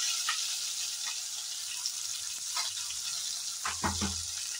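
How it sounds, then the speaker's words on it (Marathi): Spiced masala paste frying in hot oil for chicken gravy, a steady faint sizzle with a few brief stirring clatters, no talking. "ह्याच्यातलं तेल आता तापलेलं आहे. मगाशी हा 1च चमचा मसाला हे केलेला तो सगळा हा ह्याच्यात घालायचा आहे"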